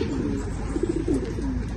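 Pigeons coo softly in a coop built from scrap wood and tin, a few low, close murmuring coos rising over faint background noise.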